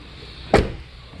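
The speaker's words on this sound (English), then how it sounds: "Door has to be open for the diesel." A diesel fuel door on a 2020 Melbourne 24RP motorhome pops open with a single short, close click-thunk against a quiet background.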